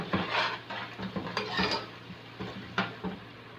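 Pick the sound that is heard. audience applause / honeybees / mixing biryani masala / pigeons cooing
mixing biryani masala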